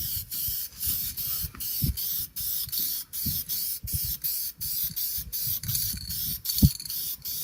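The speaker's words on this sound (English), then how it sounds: "we'll apply the clear coat, again keeping the can about 6 inches away from the surface" Aerosol can spraying clear coat onto a repaired car bumper in smooth strokes, a steady hiss broken into a dozen short bursts, with light handling knocks between passes and no talking.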